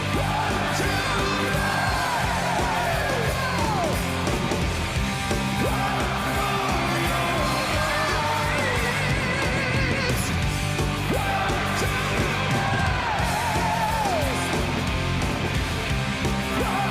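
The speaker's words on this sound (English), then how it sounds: "I was hoping we'd listen to the crowd though" Crowd at a live concert recording yelling and whooping over loud music, a continuous dense roar of voices blended with the band.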